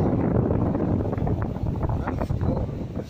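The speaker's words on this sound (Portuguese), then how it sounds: "Daí a gente desliga o LED e bota o motor na potência." An electric fan motor runs at full power with a steady, loud whooshing hum that holds for the whole stretch.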